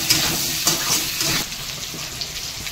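Potato pieces fry in hot oil in a pan for a fish curry, giving a moderate crackling sizzle. Brief stir bursts rise over the sizzle before it settles to a softer hiss, with no talking.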